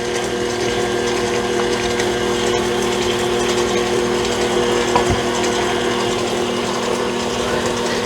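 An electric mixer whirs continuously at a steady pitch, its beater churning a thick mixture with a faint rhythmic grinding and no talking.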